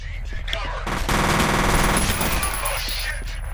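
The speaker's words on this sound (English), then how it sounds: "They hear gunfire, so like, well, check it out." Rapid automatic gunfire bursts in the F.E.A.R. video game, dense and loud for a couple of seconds over constant game noise, with voices talking now and then.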